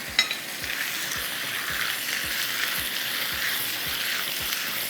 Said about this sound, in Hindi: फ़ौरन इसमें शामिल करेंगे जिंजर गार्लिक पेस्ट। 1 भर के खाने का चम्मच हम इसमें शामिल करेंगे और उसकी करेंगे अच्छी सी भुनाई